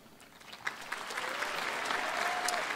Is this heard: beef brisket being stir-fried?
no